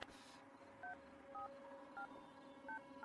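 A phone number is punched in during a scene from a Hindi-dubbed action film: a brief noise, then about six evenly spaced touch-tone beeps, clean and fairly quiet, with no speech.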